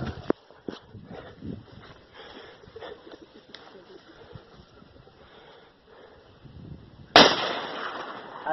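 A 7.7 Japanese Arisaka rifle fires one sharp, loud shot outdoors near the end, after quiet stretches of faint talk and small knocks and clicks.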